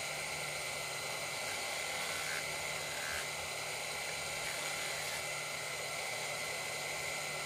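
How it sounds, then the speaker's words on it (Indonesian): A sanding grinder whirs steadily while smoothing the hard sole of a shoe, a continuous, fairly quiet high-pitched hum with light scraping and no talk. "ini bagian besolnya juga dirapihkan dengan amplas gerinda"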